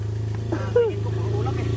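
A motorcycle on a steep 28% gradient climb gives off a steady, close low engine drone with an even throb. People shout and talk over it.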